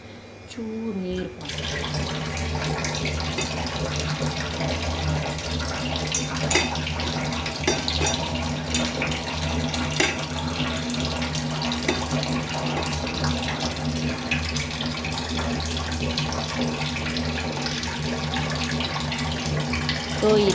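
A tap runs steadily into a kitchen sink for a fish dish, a continuous close splashing stream with a low hum underneath, with no voices.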